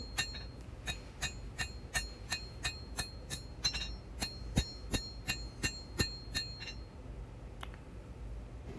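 Hammer striking the horn handle of a hand-forged integral guard hunter knife, a run of about fifteen sharp, bright metallic clinks at a steady, brisk rhythm, fairly close with a faint hum underneath.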